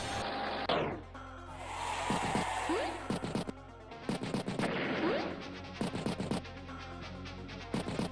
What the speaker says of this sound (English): Artillery gets a good strike there in that light tank